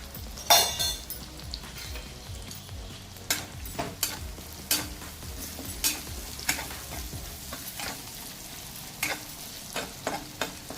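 Spices with onion-garlic masala and garam masala sautéing in hot oil for a Bombay duck curry, a steady soft sizzle under repeated clinks and scrapes of a stirring spoon against the pan.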